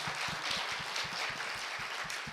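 Studio audience on a Korean talk show claps steadily, a dense even patter of many hands sustained for a couple of seconds at moderate level.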